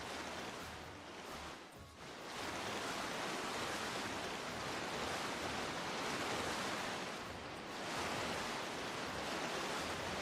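Flowing water from a placed water block in ARK: Survival Ascended, a steady broadband rushing like surf or a stream that briefly dips and swells, with no voices.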